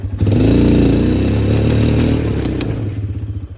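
An Arctic Cat 400 ATV backs up in low-range reverse with four-wheel drive engaged, its single-cylinder engine droning loud and steady up close with clattering drivetrain, easing off at the end.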